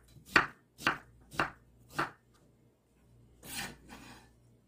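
A knife chops Korean radish on a cutting board for a braise: four crisp, evenly spaced strikes, a short pause, then two softer cuts, close and clear with no talking.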